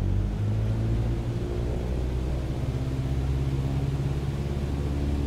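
Small aircraft engine in Microsoft Flight Simulator, throttled forward for takeoff: a steady, droning low rumble with sustained engine hum, loud and constant for several seconds.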